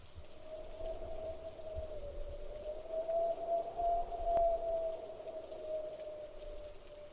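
Rain falls in a steady, moderate wash, with a thin sustained tone running underneath and a single faint crack midway.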